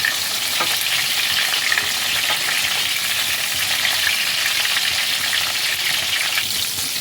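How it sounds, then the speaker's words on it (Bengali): Pointed gourd (potol) frying in hot oil, a steady, dense sizzle that holds loud and even throughout with no talking. "পটলগুলোকে তেলে ফ্রাই করে নেব।"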